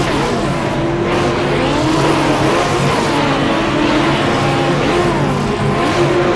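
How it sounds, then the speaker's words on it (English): Roadster race cars in a racing video game rev their engines loudly and continuously on the starting grid during a long starter's hold, a dense steady engine roar with rising and falling pitch. "Long hold, they are revving, and let's hope they don't expire these motors"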